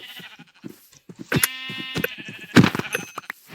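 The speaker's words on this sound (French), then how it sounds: "Tiens, il y a des moutons" Sheep in Minecraft bleat loudly in two clear, wavering calls near an abandoned village, with quieter clicks and game sounds between them.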